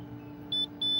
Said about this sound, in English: You hear that beeping? That's my meter